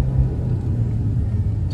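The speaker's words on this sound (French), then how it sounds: "on est en montée et regardez là, dès que vous accélérez, la voiture elle part" Audi RS Q3 accelerating uphill on a mountain road, heard from inside as a steady low engine rumble and road noise, loud and even over the short stretch with no talk.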